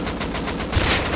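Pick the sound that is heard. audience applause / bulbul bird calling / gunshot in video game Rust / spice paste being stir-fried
gunshot in video game Rust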